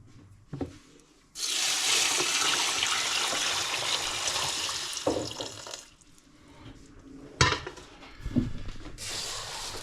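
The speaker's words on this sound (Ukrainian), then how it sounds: "Даю літр коноплі у відерку і теж заливаю водою." Water runs steadily into a bucket holding a litre of hemp seeds for soaking, a strong rushing pour for several seconds, then stopping, followed by softer splashes, clatters and handling noises close by.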